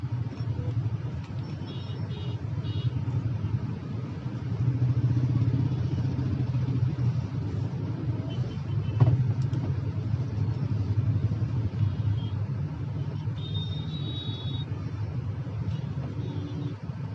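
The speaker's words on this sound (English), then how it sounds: "this is the traffic I was talking about." Congested road traffic with cars, trucks and motorcycles passing, a continuous low engine rumble and clatter with occasional horn-like tones and one sharp knock near the middle, steady and fairly close.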